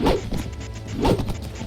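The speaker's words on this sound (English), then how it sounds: "Ooh, my horse just got hit." Two heavy thwacking impacts of a horse being struck in battle in the Mount and Blade Warband Viking Conquest video game, about a second apart, sharp and close with brief decays.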